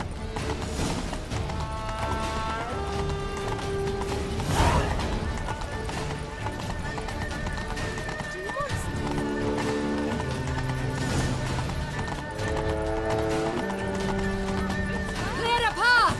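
A ridden horse gallops in The Witcher 3: Blood and Wine, its rapid hoofbeats pounding continuously under loud orchestral game music, with a whinny and occasional voices mixed in.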